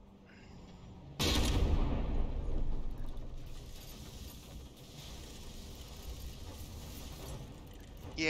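Cheese cannon firing in the naval combat game From the Depths during a battleship brawl: a sudden loud blast followed by several seconds of dense, rumbling gunfire-like noise that slowly eases off.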